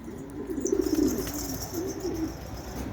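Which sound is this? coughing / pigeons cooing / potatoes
pigeons cooing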